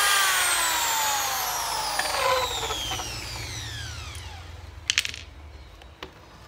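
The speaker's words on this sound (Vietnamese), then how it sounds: "Đây phần búa thì anh em đây đập qua búa này nè" A Japanese-market hammer is struck against metal at a tool stall, each blow leaving a descending metallic ring, followed by a few sharp, separate clanks near the end.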